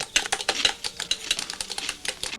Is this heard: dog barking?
no